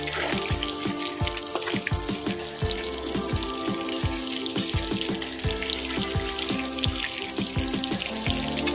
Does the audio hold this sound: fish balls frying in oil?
yes